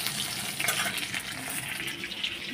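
Leafy greens hit hot oil with garlic in a pan and are stirred, giving a steady, close hiss of frying with soft scraping, no voices.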